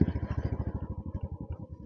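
A Royal Enfield Classic 350 motorcycle idles close by, its single-cylinder engine thumping in a steady, even rhythm that eases slightly as it settles.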